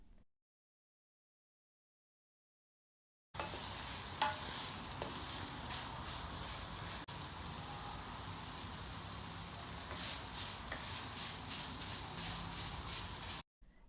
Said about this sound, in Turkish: Kıyma kavrulmaya devam edilir.